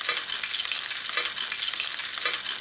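Salmon fries in hot high-smoke-point vegetable oil over medium heat while being basted, a loud continuous hissing sizzle with rhythmic swells each time oil is spooned over.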